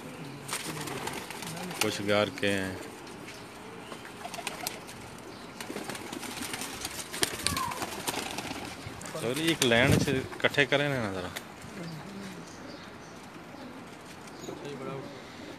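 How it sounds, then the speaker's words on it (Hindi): Lakha pigeons in a Pakistani loft, soft low coos surfacing now and then, strongest around the middle, beneath someone talking and a noisy background. "ये हमारे लाखे कबूतर हैं जी"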